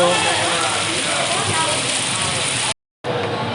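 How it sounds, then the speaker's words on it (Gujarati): Steady, heavy rain pours down in Rajkot in a continuous wash of noise, briefly cut off near the end before resuming. "અત્યારે વરસાદ આવી ગયો છે"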